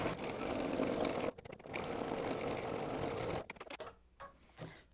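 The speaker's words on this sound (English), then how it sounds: "it's done stitching this pocket" Sewing machine stitching a pocket on a fabric advent calendar, two sustained close runs broken by a brief stop, then tapering off into sparse mechanical clicks.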